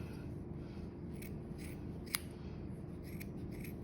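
Scissors snipping through yarn loops wrapped for a pom pom, a handful of soft crisp cuts spaced irregularly with one sharper snap, close and quiet over a low background hum, no talking.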